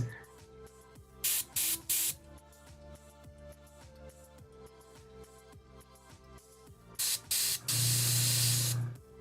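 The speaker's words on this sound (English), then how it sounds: "I've never actually seen anybody airbrush before." An airbrush sprays paint in short hissing bursts, several brief trigger pulls followed by a longer sustained spray, close up, with faint talk in the background.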